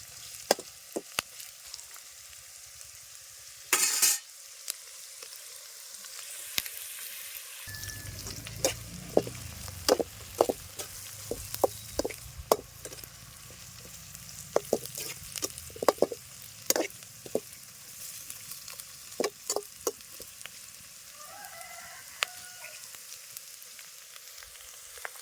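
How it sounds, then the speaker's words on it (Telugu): Onions frying in a pan for chicken biryani, a steady sizzle with scattered crackles and pops and occasional stirring scrapes, heard close and alone for a long stretch. "ఉల్లిగడ్డలు వేయించుకోవాలి."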